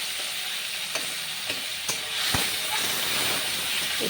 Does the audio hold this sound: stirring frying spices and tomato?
yes